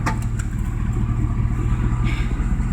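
A Ford 302 V8 swapped into a Mazda RX-7, running the 351 Windsor firing order, cranks over with a steady, loud, close mechanical churn that holds for the whole stretch without catching.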